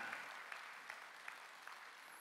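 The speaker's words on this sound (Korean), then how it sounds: "박수치고" A congregation claps during a Korean Sunday church service. The applause is faint and distant, a steady patter with a few sharper claps standing out at regular moments. No one talks over it.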